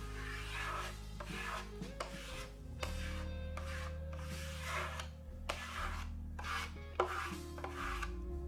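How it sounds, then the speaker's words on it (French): Steady rubbing and scraping as a squeegee wipes excess epoxy grain filler across a guitar body, fairly quiet and close, in repeated strokes with no speech. "Un dernier coup de raclette pour vraiment éliminer tout le surplus."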